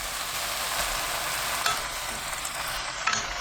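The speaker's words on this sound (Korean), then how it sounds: "해물, 미림 3큰술 넣고 볶아주세요" Mixed seafood stir-fries in a pan with mirin, a dense steady sizzle and hiss with light scraping of stirring, close and uninterrupted, no voices.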